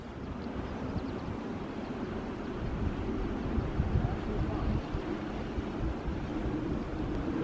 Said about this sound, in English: All I could hear in the background was the waves breaking